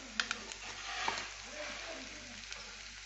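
Spiced mixture with salt, garam masala and ground black pepper being sautéed and stirred in a pan, a steady soft sizzle with scraping spoon strokes and a few light clicks, close and without talk.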